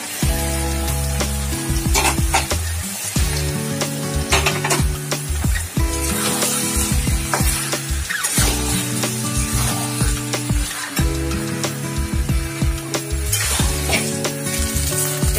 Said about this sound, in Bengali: এবারে চালটাকে দিয়ে কষবো।